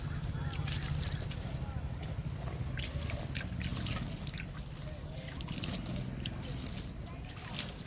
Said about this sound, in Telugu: సపోటా మొక్కకి చల్లుదాము లిక్విడ్ని.